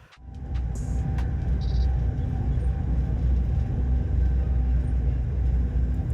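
Inside a Tren Maya passenger train in motion, a steady low rumble of the carriage fills the space, with a few faint high beeps and clicks near the start and no talking.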